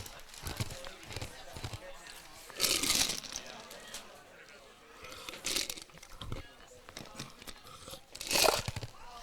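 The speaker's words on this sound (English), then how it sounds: "I apologize for the crunching sound of my microphone. I'm chewing on some ice to try to cool myself down." Ice is chewed right at the microphone during a junior college softball broadcast, giving loud close crunches in a few bursts over low crowd and field noise.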